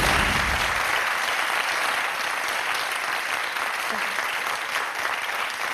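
A studio audience on a French television set applauding, dense steady clapping throughout that starts loud and holds with a slight fade toward the end.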